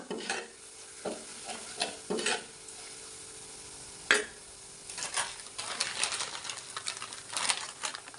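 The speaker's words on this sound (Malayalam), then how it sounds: "ഇതിലേക്ക് മഞ്ഞൾപ്പൊടി ചേർത്ത് കൊടുക്കുക എന്നിട്ട് നന്നായിട്ട് തന്നെ ഒന്ന് യോജിപ്പിച്ചെടുക്കുക" Banana pickle mixture being stirred after turmeric powder is added, irregular scraping and clacking of a spoon against the pan over a faint sizzle, with a few louder knocks, no talking.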